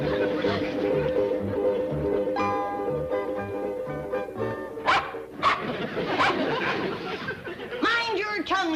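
Small dog barking and yipping in a rustic country home, with sharp yaps and a whimper coming near and clear over background music and people talking.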